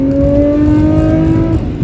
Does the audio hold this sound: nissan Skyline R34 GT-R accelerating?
yes